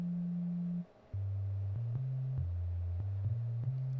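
Synthesizer sine-wave tones with reverb hold pure, steady pitches. A higher tone gives way after a brief gap to a sequence of lower notes that step between pitches, each with a faint click at its onset.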